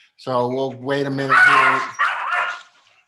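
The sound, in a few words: dog barking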